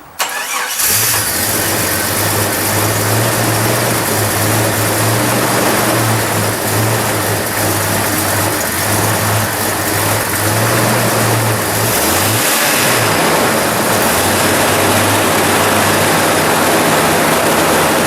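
A Jeep TJ fitted with a new Crown header-back exhaust cranks and fires up, then settles into a loud, close, steady idle with a throaty drone and a brief dip and rev partway through, no talk.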